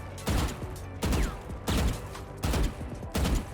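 Five sharp gunshots from a tactical shooter such as Valorant or CS2, fired one at a time while counter-strafing, evenly spaced about a second apart, loud and punchy with short ringing tails and no talking.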